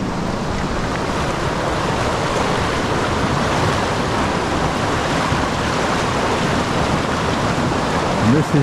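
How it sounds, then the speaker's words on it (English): The River Allen in flood near the village of Newtown, a steady, loud, close roar of rushing water with wind buffeting the microphone throughout. "This is the River Allen,"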